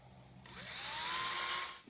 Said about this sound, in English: we're creating pilot holes so that we don't split the wood when we actually put the screws in